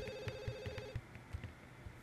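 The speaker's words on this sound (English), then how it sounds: "Oh, God, the phone's ringing." A telephone rings in The Sims video game, a steady repeating electronic ring tone cycling through the clip over a busy background of game sounds.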